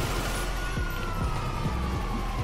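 A police car siren in a video game wails continuously over loud engine and traffic rumble, steady and close throughout.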